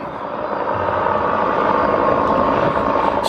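Simulated helicopter sweeping past through a museum exhibit's hidden surround-sound speakers, a steady broadband rotor-and-engine roar holding at a constant, fairly loud level with no voices.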